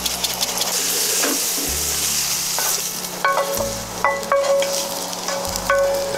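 Baby bella mushrooms sauté in butter and olive oil with a steady close sizzle, punctuated by a few sharp clinks and scrapes of a utensil stirring the pan, no voices.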